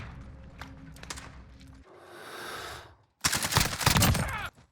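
A CR56 rifle hip-fired in a shooter game: short bursts of rapid gunfire, a brief whooshing gap, then a dense loud volley of close shots near the end.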